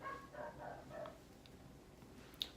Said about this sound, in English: I apologize for those dogs if y'all can hear that.